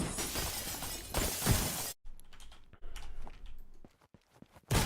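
Glass shatters loudly in a first-person video game as it is shot, with a sharp burst of breaking and scattering shards followed by quieter debris patter and a final crash.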